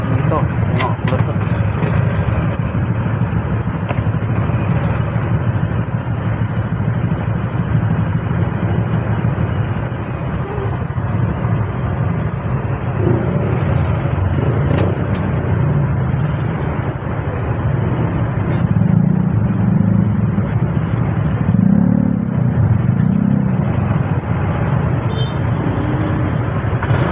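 Cars and motorcycles pass along a busy road, blending into a steady, fairly loud traffic roar with low rumbling swells near the end. Faint voices sit under the noise.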